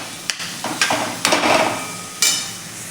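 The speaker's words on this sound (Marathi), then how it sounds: "आता हे छान आपण कांदा आणि टॅमॅटो दोन्ही आपण छान असं 2 ते 3 मिनिट आपण परतून घ्यायचं आहे" Onion and tomato being stirred and sautéed in a pan while cooking dry mutton, with several close, scraping stir strokes over a steady sizzle and no talking.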